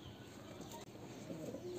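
A pet pigeon from Murshidabad coos softly and low, faint beneath a steady background hiss.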